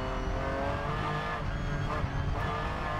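A race car at Oschersleben circuit drives down into the pit lane, its engine a loud, steady drone with a continuous rumble and no break across the whole stretch.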